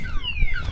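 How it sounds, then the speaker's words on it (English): A car alarm goes off in Saint Martin near Maho Beach, sounding warbling tones that sweep downward, moderately loud over low background rumble. "Car alarm going off."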